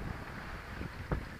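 Steady wind of about 12 knots rushes over a sailboat under sail with the engine off, a broad continuous hiss and buffeting close to the microphone, with no voices.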